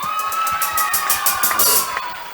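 A game show studio audience on Hojamalo claps and cheers, a dense burst of applause and whoops throughout, loud and close with rapid steady clapping.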